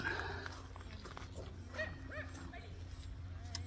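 A dog barks and yips faintly in the distance amid outdoor background noise and murmuring voices by a riverside, where people are walking dogs.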